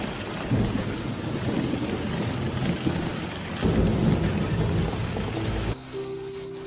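Heavy, steady rain pours down at night with low rumbling thunder rolling underneath, then the downpour abruptly drops away near the end.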